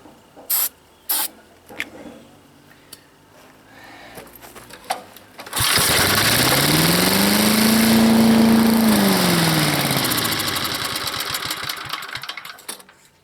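A cheap gas-powered leaf blower, bought used and being brought back to life, gives a few sharp pull-start clatters, then roars into a loud, buzzing run that revs up and slowly settles.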